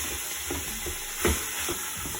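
Ground meat for chili is broken up and browned in an Instant Pot, a quiet sizzle with soft scraping and stirring knocks from a utensil, one slightly louder clack midway.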